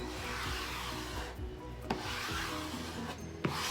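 A 4-inch squeegee rubs chalk paste across a stencil in steady back-and-forth scraping strokes, a close, continuous rasping with a couple of brief sharper scuffs and no talking.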